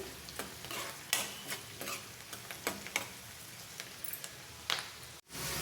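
Onions fry in a pan over a medium flame for an okra fry, a faint, steady sizzle dotted with light ticking stirs of a spatula, near and quiet, ending in a brief cut.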